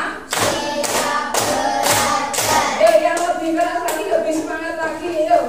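A group claps hands together in a classroom rhythm game, with sharp, evenly spaced claps landing roughly once per second, mixed with group chanting and voices.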